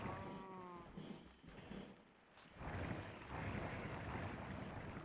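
A sheep on a Minecraft wool farm gives one short bleat at the start, followed by a steady rushing, watery wash of noise that grows louder and continues to the end.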